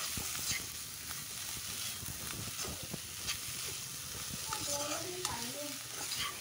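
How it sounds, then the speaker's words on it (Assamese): Bottle gourd stir-fried in a kadai over a medium flame gives a steady, close sizzle broken by repeated scrapes and stirs of the spatula, with no one speaking. "এতিয়া কেৰাহীখনত মই ৰুকি লোৱা জাতিলাওখিনি দি দিছো আৰু মিডিয়াম ফ্লেমত এইখিনি 10 মিনিট মানৰ কাৰণে ভাজি ল'ব লাগিব"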